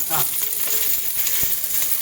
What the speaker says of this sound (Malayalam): ആദ്യം വെണ്ടയ്ക്ക ഫ്രൈ ചെയ്യണം